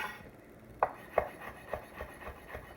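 A knife chops mushrooms into small dice on a cutting board, giving several crisp, evenly spaced taps that start sharp and then soften. The sound is close and moderately loud, with no voices.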